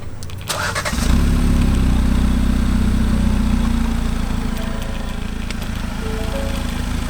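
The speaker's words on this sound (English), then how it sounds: "we just want to let you guys hear the car" A 2021 Ford EcoSport engine cranks and fires after a short moment, then settles into a steady, smooth low idle that continues evenly, heard from close by.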